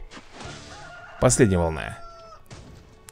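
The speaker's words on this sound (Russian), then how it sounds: "петушара там, которая орет, это, видимо, признак того, что на тебя надвигается волна" A cartoon rooster from the mobile game Swamp Attack 2 crows loudly, a rising and falling cock-a-doodle-doo in the middle of the clip. Someone talks before it starts.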